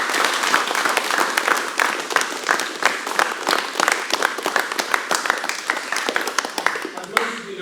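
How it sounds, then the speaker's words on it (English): Sustained applause from a seminar crowd at a martial arts academy anniversary event with belt promotions, dense steady clapping filling the room for several seconds and easing off toward the end. "give yourself a big round of applause, guys"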